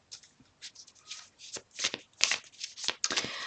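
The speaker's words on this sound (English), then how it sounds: "just the message as I'm shuffling" Tarot cards being shuffled by hand, a series of crisp riffling bursts in an irregular rhythm, close and clear, with a voice faintly present at moments.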